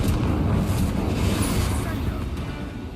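A Confringo fire spell bursts in Hogwarts Legacy with a loud, deep explosive boom and rumble that fades slowly over a few seconds. No commentary is heard.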